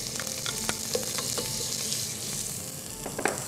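Onion frying in ghee for a red spaghetti sauce, a steady close sizzle with scattered clicks as a spoon stirs the pan.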